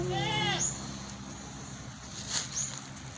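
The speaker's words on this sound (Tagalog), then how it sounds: "Yan yung kambing guys" A single wavering goat bleat up close at a zoo at the start, followed by quieter outdoor background noise and a couple of faint high squeaks.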